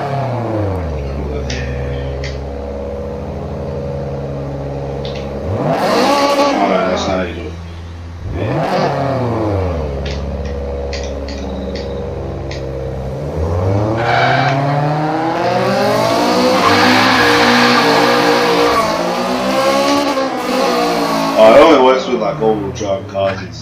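Cammed car engine in Forza Horizon 3, loud and close, idling with a lumpy rough rhythm and repeatedly revving up in sharp bursts, with rising and falling pitch sweeps, while a person talks over it.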